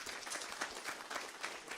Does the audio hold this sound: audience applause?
yes